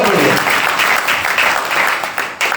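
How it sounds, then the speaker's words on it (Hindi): An audience at a Jain poetry gathering claps in a steady, dense burst of applause, close and loud, fading slightly toward the end. "जोरदार तालियां"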